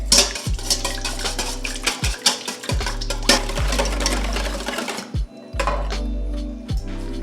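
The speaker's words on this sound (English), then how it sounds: "I'm just gonna whisk this together" A whisk clatters rapidly against a bowl as oil and vanilla extract are mixed for a carrot cake roll. The metallic scraping comes close up in bursts, with short pauses and thudding knocks between strokes.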